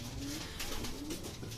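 Pigeons cooing in their loft, a couple of low drawn-out coos rising over steady background noise, close and moderately loud, with no talking.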